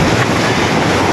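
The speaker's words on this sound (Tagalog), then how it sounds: "grabe yung lakas ng alon talaga" Strong sea waves on a rocky shore, a loud continuous roar of surf with wind buffeting the microphone, no voices.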